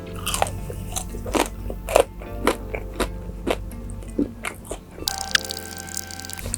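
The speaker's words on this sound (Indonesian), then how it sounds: "Nih, kriuknya kalian dengerin ya." Crisp bites into the thin skin of KFC Original Recipe fried chicken, a string of close, sharp crunches at a steady pace, each followed by brief crackle, heard alone without talk.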